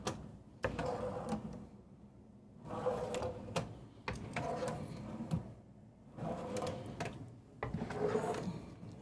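Deep soft-close kitchen drawers in a 2023 Newmar Essex 4521 motorhome are slid open and shut several times, each a smooth rolling glide ending in a gentle thump, heard close with no talking.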